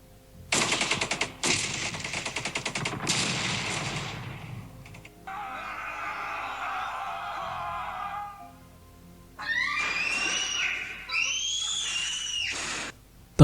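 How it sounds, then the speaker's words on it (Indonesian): Loud bursts resembling gunfire ring out from outside a house, a rapid crackling volley in the opening seconds, followed by a sustained hissing noise and then sharp, tonal wailing sounds near the end. "Terdengar suara kencang dari luar rumah. Suaranya mirip sekali dengan senapan."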